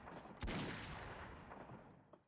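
A single sharp Enfield revolver shot in a modded video game, loud and close with a decaying tail.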